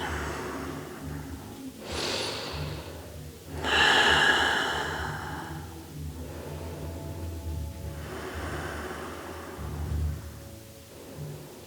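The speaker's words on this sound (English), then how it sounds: "And breathing." Slow, deep breaths during a full-moon yoga flow: a few long inhales and exhales with soft, airy rushes spaced several seconds apart, close to the microphone and not drowned out by talk.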